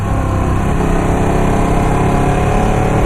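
A Ducati 959 sports motorcycle engine runs at a steady idle, a continuous close, loud low mechanical drone with no speech over it.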